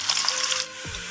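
Onions frying in hot oil in a pan for aloo anda curry, a steady close sizzle and crackle that eases off slightly toward the end, with no talking.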